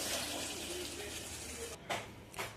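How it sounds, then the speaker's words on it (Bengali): Water poured into a pan of chicken being cooked down for curry, a steady splashing pour with a brief bump near the end and a short second splash. "পরিমাণ মতো জল দিয়ে দিয়েছি"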